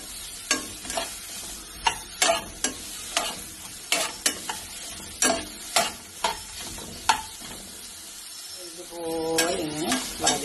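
Vegetables being sautéed in oil in a pan, with steady sizzle behind sharp, irregular clinks and scrapes of a spatula stirring, and a short burst of clatter near the end.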